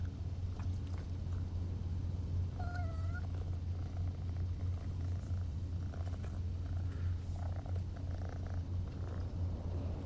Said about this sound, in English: it sounds kind of like a thunderstorm. And like a cat purring.